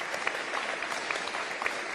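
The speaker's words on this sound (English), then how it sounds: "How about a big round of applause?" Applause at a political rally with Congresswoman Debbie Dingell: a crowd claps steadily and fairly softly throughout, with a few louder claps poking out of the even wash.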